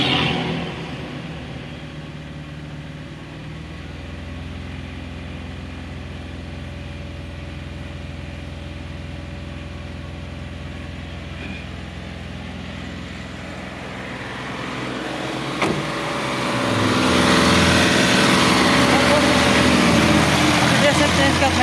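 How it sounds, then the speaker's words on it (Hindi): A Mahindra Bolero's engine idles steadily, then revs up louder and holds the higher pitch for the last few seconds, close by with a voice speaking over it. "रेस दो,"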